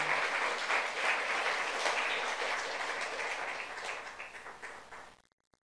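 Congregation applause during a youth church sermon, full steady clapping that gradually thins out and stops abruptly near the end.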